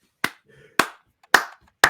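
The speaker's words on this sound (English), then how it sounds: "just start clapping like that" Four sharp, close hand claps keep a steady beat about half a second apart, each ringing briefly, with a faint murmur between the first two.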